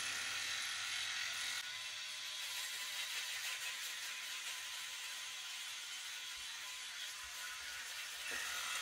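A Philips Norelco 9400 rechargeable wet/dry electric shaver runs with a steady, close high-pitched buzz that stays even for the whole stretch and carries no talking.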